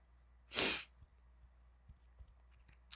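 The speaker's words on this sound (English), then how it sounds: "I'm going to sneeze." A single loud, close sneeze bursts out near the start, a sharp noisy blast lasting about half a second, followed by quiet room tone with a few faint soft knocks.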